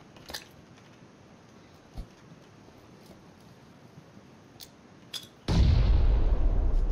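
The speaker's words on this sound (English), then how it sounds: "Are they shooting at you? Oh, you're shooting at them." Sporadic gunshots crack out in a PUBG match, a few sharp isolated reports spaced over several seconds, then a loud sustained burst of firing or blast noise takes over at the end.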